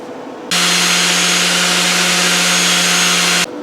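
A steady, close grinding whine while tungsten electrodes for an Amico TIG 200 welder are sharpened to a point, running continuously for about three seconds with a constant low hum beneath, starting and stopping abruptly.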